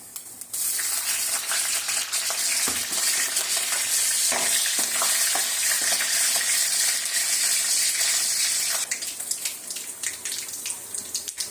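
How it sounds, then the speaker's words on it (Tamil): Steady, loud sizzling of cumin and slit green chilies frying in hot oil, with occasional stirring clinks and scrapes throughout; no voices. "2 பச்சை மிளகாய் கீறினது போட்டு நல்லா வதக்கிக்கலாம்"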